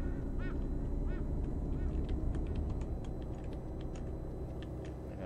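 Repeated duck quacks from inside the Euro Truck Simulator 2 driving game sound in short bursts, a few spaced across the clip, over a steady loud drone of truck engine and road noise.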